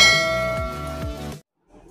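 A bell notification sound effect chimes once, a bright, metallic ding with a sustained ringing tail, loud and alone, then stops sharply into silence.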